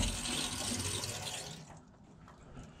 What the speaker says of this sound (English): I'm going to turn the water on here.